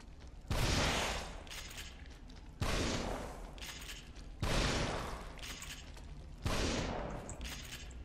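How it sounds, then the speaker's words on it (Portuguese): Four loud shotgun blasts from the survival-horror video game The Evil Within, each a sharp boom with a decaying tail, spaced about two seconds apart and heard alone. "tive que dar um monte de tiro"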